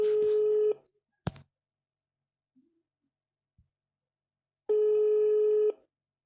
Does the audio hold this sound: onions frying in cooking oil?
no